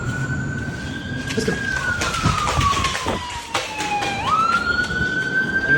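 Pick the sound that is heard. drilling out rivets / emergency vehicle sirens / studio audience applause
emergency vehicle sirens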